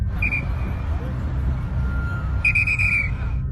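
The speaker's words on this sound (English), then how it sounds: "starts blowing on her whistle and waving her flag" A traffic control officer blows two sharp, shrill whistle blasts, a short one then a longer one about two seconds later, over a steady rumble of passing street traffic.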